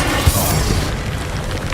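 An explosive spell going off in the video game Hogwarts Legacy, a loud close boom with a brief burst at the start, decaying into a rumbling tail.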